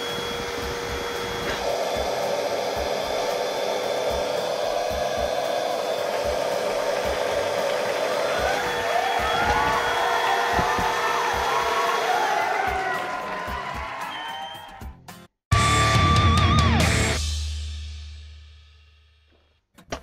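A Bosch EasyVac 12 handheld vacuum cleaner runs with a steady whine for about fifteen seconds, cuts off abruptly, then restarts briefly and spins down.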